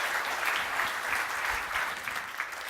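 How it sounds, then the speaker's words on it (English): A conference audience applauds a keynote speaker with dense, continuous clapping that holds steady and full throughout, without talk over it. "A round of applause for Will."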